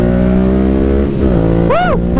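A Kawasaki H2 motorcycle engine runs loud and close, its steady droning harmonics rising in a quick rev that swoops up and falls back near the end.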